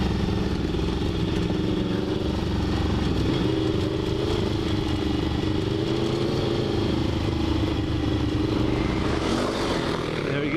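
A Despatch Tracker motorcycle, Ian Fitzgerald's build, ridden on the road, its engine drone loud and steady throughout with rumbling low-end and some mechanical clatter, no talking.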